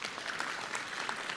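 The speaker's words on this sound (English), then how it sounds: "give me a loud round of applause for Oppo mobiles" An audience at a mobile phone launch event applauds in a short, dense burst of clapping that stays fairly faint and even from start to finish, with no talking over it.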